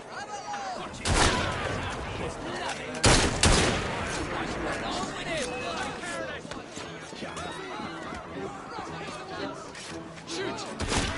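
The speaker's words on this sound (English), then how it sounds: "Draw your weapons and fire!" Gunfire in the Assassin's Creed Syndicate video game, two loud shot bursts near the start followed by scattered rattling fire, with voices and horse sounds mixed in underneath.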